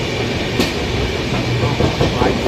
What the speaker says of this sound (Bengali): ট্রেন দেখলে কেমন টানলো, 105-এ চলছিল